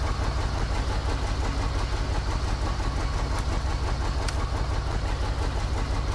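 A SnowRunner truck engine idles in a steady, loud, even rumble that holds without change from start to finish.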